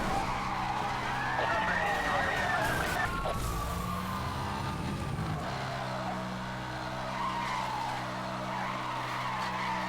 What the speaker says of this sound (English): Drifting really isn't the move here